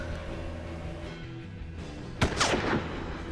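Gunfire in the turn-based western game Hard West: a low rumbling battle bed, then a sharp loud shot followed by a quick rattling burst of further shots, with no talking.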